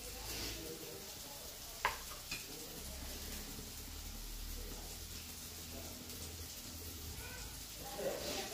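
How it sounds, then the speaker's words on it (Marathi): Pieces of surmai fish coated in fine semolina fry in a little oil, a steady low sizzle throughout with a couple of light utensil clinks, while a person talks over it. "अशी सगळी मच्छी फ्राय करून घ्यायची मस्त अशी."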